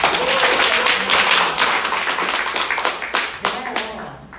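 An audience at a business seminar in Busan applauds the lecturer, loud sustained clapping that thins into scattered claps near the end, with a voice faintly underneath.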